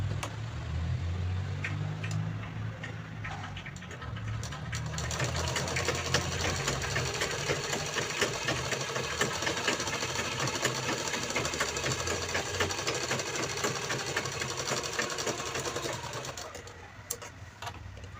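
A home sewing machine stitches a zipper onto fabric, its needle running in a steady fast mechanical chatter for most of the stretch, close and continuous, slowing briefly near the start and the end.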